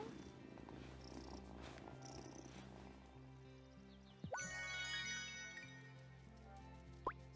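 A cat purrs in the farming life-sim game Wylde Flowers, a low steady rumble over soft game music, with a bright rising chime and a short blip near the end; no one talks.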